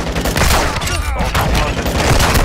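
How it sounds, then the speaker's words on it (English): A continuous loud barrage of Call of Duty gunfire, rapid overlapping shots and booms filling the whole moment. "I'm taking objective fire!"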